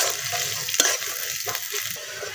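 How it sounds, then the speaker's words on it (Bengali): Chopped onion and garlic fry in oil for beef kala bhuna, a steady close sizzle with a brief louder crackle burst partway through, no talking. "এই তো দেখেন পেঁয়াজ আর রসুনগুলো কিন্তু আমি গোল্ডেন গোল্ডেন করে ভাজতে নিচ্ছি।"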